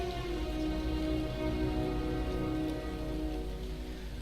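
Steady rain falls in the video game ARK on a dark night, a continuous dense hiss of drops that holds even throughout with no voices over it.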